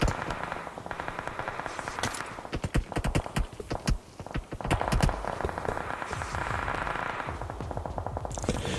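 Gunfire during a competitive video game match, rapid bursts of automatic fire crackling in dense volleys, mixed with scattered single shots and sharp impacts throughout.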